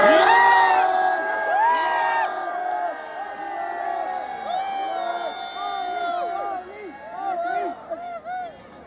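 Crowd at an India versus South Africa cricket match in Raipur shouts and cheers loudly, layered whoops and yells near and far, with voices chattering over it.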